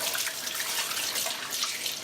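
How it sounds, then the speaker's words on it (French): Water runs from a tap over fingers being rinsed in a kitchen sink, a steady close splashing rush with no talk. "Je me rince les doigts."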